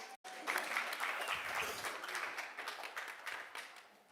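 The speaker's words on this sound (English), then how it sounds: "Please, no applause." An audience at a school board meeting on a locker room policy bursts into steady, full applause after a brief silence, slowly fading toward the end.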